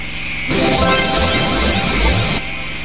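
A mini copter flies in a Wii video game, a loud, dense whirring roar that bursts in suddenly, holds steady for about two seconds, then drops back to a quieter background drone, with no talking.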